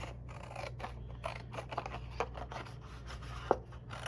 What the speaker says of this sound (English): Cut it in half so you've got a nice little border.